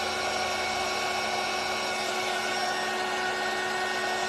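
Steady, loud whooshing roar of a handheld dryer blowing over wet paint on a chicken painting, a constant broadband hiss that holds unchanged from start to finish.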